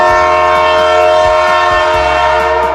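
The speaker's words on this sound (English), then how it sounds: "It's a train." A train sounds a loud, sustained horn chord that holds steady throughout, with rumbling, clattering wheels on the rails underneath and a rhythmic clickety-clack of passing cars close by.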